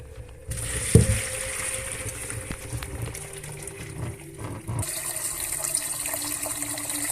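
Water is poured out of a cooking pot, pouring and splashing steadily for several seconds, a continuous rushing flow with a brief clunk near the start.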